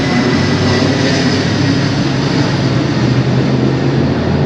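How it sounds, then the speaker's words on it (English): An airplane passes over downtown San Jose as a steady, loud, broad roar with no speech, mixed with the rumble of city street traffic throughout. "There goes the airplane."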